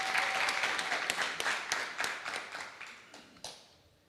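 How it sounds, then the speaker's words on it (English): Applause rises at a music conference for a panelist: a modest crowd claps steadily with sharp individual claps standing out, then thins and fades toward the end. "Round of applause for Thobile Makhoyane."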